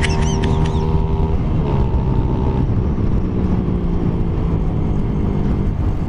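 A Raider 150 carburetor motorcycle engine runs close by, a loud steady rumbling drone with a revving whine that rises and settles early on, then holds at an even idle-like tone.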